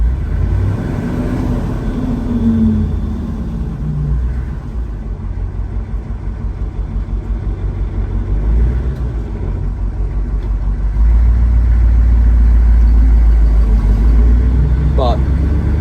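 Truck engine rumbles steadily at low speed while being driven slowly, growing louder and deeper near the end, with someone talking over it.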